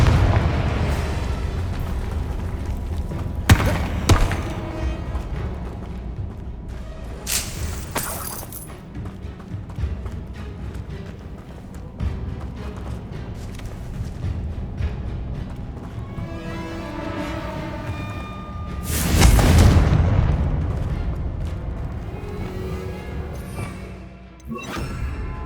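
Confringo fire spell blasts in Hogwarts Legacy, a run of heavy booming explosions with sharp bursts at intervals, one big roaring detonation near the end, over a low rumbling game soundscape.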